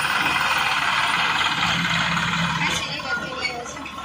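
A tractor engine runs steadily on a farm track, a continuous close mechanical rumble with a faint voice now and then.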